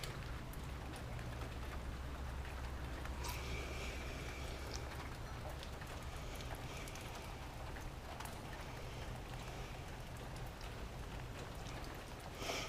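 Light rain falls outdoors in a steady, soft patter, with scattered drops striking nearby surfaces over a low constant hum, continuous and fairly quiet throughout.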